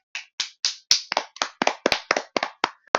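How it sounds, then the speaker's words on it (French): A small group claps by hand, with about a dozen separate, crisp claps in a loose, uneven rhythm. The claps are close and there is no talking. "Des petits applaudissements."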